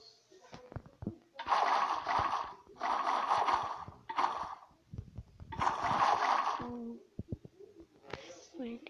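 Water pours from a bucket in a video game, with several loud splashing bursts separated by short gaps, and someone talks between and over them.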